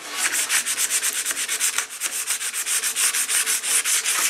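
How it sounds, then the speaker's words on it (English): A 100 grit sanding disc is worked back and forth along the edge of a zero-clearance table saw insert near the riving knife slot, making loud, rapid rhythmic rasping strokes, close and continuous. "I'm just going to take a disc. I've got some 100 grit disc."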